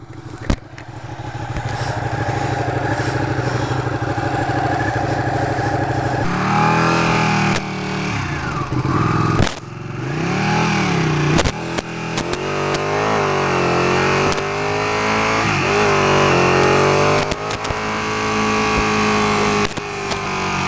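A 2016 Ducati 959 Panigale L-twin with a quick shifter is ridden in race mode: a loud, steady engine drone close to the mic that rises and falls through quick shifts and revs, with no talk.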